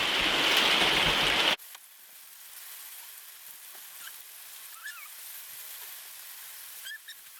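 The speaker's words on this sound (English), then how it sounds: "It's raining, so we're back in the caravan." Steady rain patters on the roof of a caravan, a soft continuous hiss with occasional louder drips, after a brief loud burst of noise at the start.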